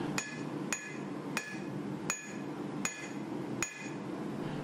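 A forging hammer strikes a hunting knife blank in an even rhythm, six sharp ringing blows about three-quarters of a second apart, close and clear over a low background hum.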